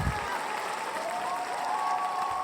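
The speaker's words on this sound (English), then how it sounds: "Love the crowd. Sound effects are fantastic." Crowd applause sound effect played during a golf podcast, a dense steady wash of clapping and cheering filling the whole moment at fairly loud level.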